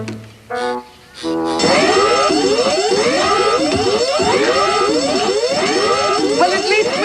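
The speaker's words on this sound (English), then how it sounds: "That must be the palace alarm." A palace alarm in a cartoon blares steadily for several seconds, a loud repeating ringing tone with rising sweeps after a few brief opening beeps, dominating the scene.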